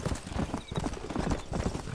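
Horse hooves in the video game Red Dead Redemption, a quick steady clip-clop of galloping, fairly faint and close, running continuously with a soft snort partway through.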